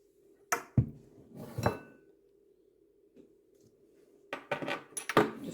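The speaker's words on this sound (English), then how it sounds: "Just trying to find the right teaspoon" Metal cutlery clinks and rattles in short bursts as someone rummages for a teaspoon in a home kitchen, with quiet gaps between the jangles and a faint steady hum underneath.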